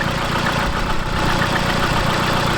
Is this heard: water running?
no